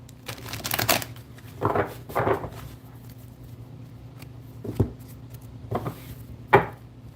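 Tarot cards are shuffled in several short bursts of riffling and tapping, close and crisp, separated by quieter pauses over a faint steady hum.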